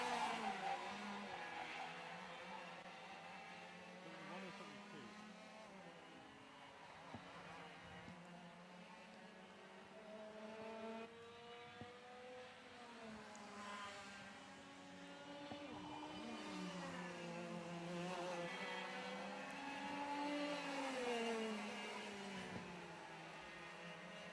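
Racing karts lapping the Nutts Corner circuit in Ireland during a BKC and F100 kart race, engines whining and rising and falling in pitch as they pass, continuous and moderately distant.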